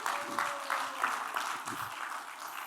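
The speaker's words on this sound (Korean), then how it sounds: "우리 영광의 박수 한번 올려드립시다" A congregation at a Sunday evening church service gives a round of applause, many hands clapping in a steady, fairly faint patter with no talking over it.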